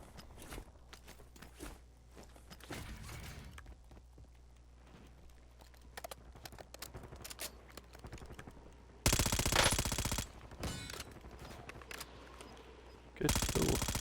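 AUG rifle fire in a video game, with short bursts of gunshots scattered through the clip and two loud, sustained bursts near the end, among quieter movement noises.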